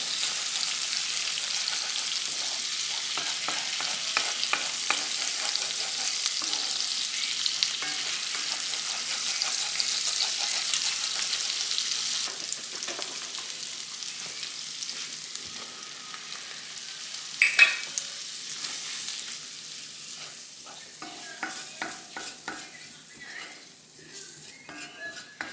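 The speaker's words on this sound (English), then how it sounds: "I'm just adding some butter to the bottom of the pan to create a roux again" Butter sizzles steadily in a pan for a roux over chicken fond, with a spoon scraping and stirring against the bottom. A bright hiss dominates the first half, then fades to softer frying with occasional utensil clinks.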